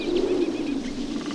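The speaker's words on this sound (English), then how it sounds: "So here you've got the wind in the leaves and birds." Generated forest ambience of birds calling over a steady rush of wind through leaves, with a few chirps and coos rising above the continuous, fairly loud airy bed.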